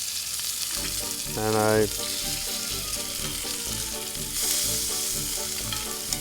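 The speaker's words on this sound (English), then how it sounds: "I hate when the ends of the bacon don't cook right." Bacon frying on a kettle grill, a continuous loud sizzle with scraping and clinking as the strips are moved around, and a brief spoken word over it.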